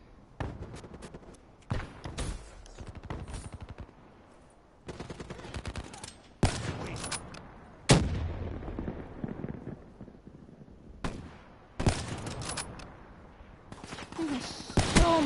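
Sniper rifle shots ring out in a first-person shooter game, several loud sharp cracks spaced a few seconds apart, each followed by decaying rumble and game noise.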